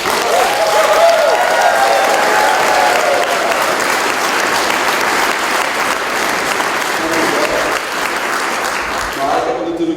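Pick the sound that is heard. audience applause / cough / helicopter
audience applause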